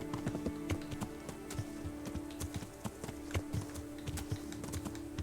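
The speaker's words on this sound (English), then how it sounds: "We'll hop back on Elmer here. And head on up into the woods." Hooves clip-clop in a steady, brisk rhythm as a horse is ridden toward the woods in the video game Kingdom Come: Deliverance, with a soft background hum beneath the hoofbeats.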